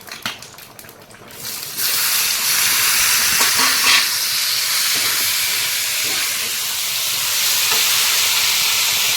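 Dry red chillies, black mustard seeds, raisins and tomato hit hot oil for a chutney, giving a loud, steady sizzle and hiss with occasional stirring scrapes, no voices.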